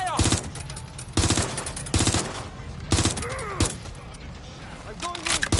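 Repeated bursts of rapid automatic fire in the video game Watch Dogs Legion, each lasting under a second and separated by short gaps filled with quieter game sounds, loud and close throughout.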